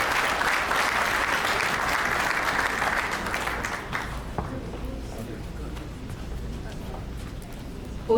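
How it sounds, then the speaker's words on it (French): Audience applause at a university medical faculty graduation ceremony, a loud dense roar of many hands clapping that fades about halfway through and leaves quieter hall ambience with scattered claps. "Je vous demande d'applaudir."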